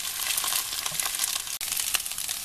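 Noodles stir-fry in a hot pan with green beans, giving off a loud, steady sizzle broken by brief scraping stirs of a spatula, with no talk over it.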